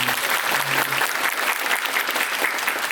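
Audience applause at a curtain call for the musical Werther, dense and steady throughout, with a faint low hum in the first second.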